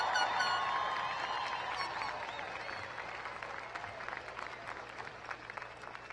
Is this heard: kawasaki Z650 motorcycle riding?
no